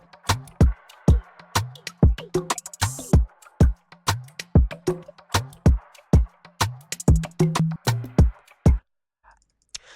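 A busy Afrobeats percussion groove of sharp clicks and hits layered over a steady drum loop, evenly paced, ending abruptly before a brief silence.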